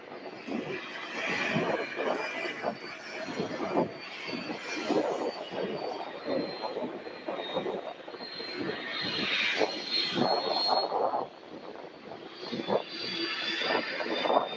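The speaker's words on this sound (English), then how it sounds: "There she is, Southwest Airlines from Houston Hobby." A Southwest Airlines passenger jet arriving from Houston Hobby rolls through its landing at Louisville airport, a sustained broad engine roar with a high whine on top, steady and fairly close.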